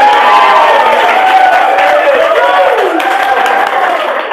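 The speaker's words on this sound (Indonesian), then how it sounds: "Tepuk tangan bagi Tuhan." A church congregation clapping for God, loud and close, mixed with cheering and shouting voices throughout, with a speaking or singing voice carrying over the crowd.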